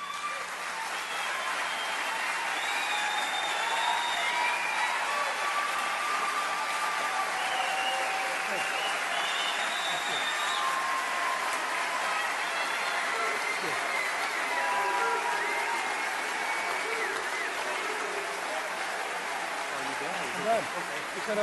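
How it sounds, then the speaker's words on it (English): A large audience at a political speech by a politician applauds steadily, a dense, continuous wash of clapping that holds at even loudness, with a voice faintly rising over it. "He kept getting so much applause"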